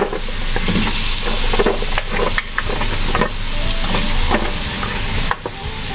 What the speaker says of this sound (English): Now let's add, mga kabaryo, our sliced carrots.